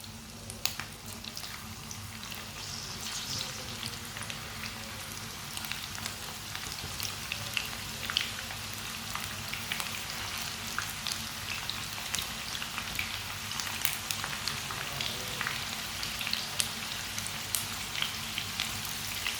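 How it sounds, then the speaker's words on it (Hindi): Okra fries in hot oil, crackling and spitting steadily like close rain on a surface for the whole stretch, with no voices over it. "ऑयल हमारा अच्छी तरह गर्म हो चुका है। अब इसमें मिक्स की हुई भिंडी डाल लेंगे।"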